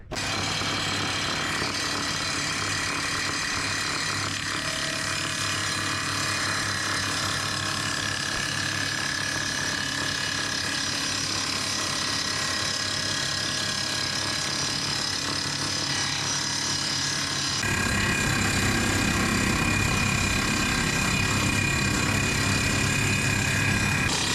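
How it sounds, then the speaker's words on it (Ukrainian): A power tool cuts wooden slats with a continuous loud mechanical whir and grinding that runs steadily throughout and shifts in tone near the end. "Значить, наріжемо рейок."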